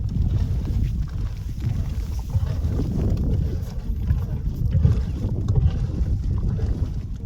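Steady, powerful rush of a geothermal geyser in Sajama National Park, Bolivia, with a deep roar and constant low rumble, loud and close, with wind buffeting throughout and no talking.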